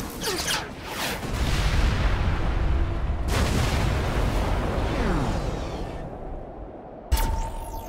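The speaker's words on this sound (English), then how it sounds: "You're using his missiles against him." Goliath's missiles explode in Nier: Automata, a dense barrage of loud booms and blasts rolling into one another for several seconds. The din ends in a brief lull and then one last sharp hit.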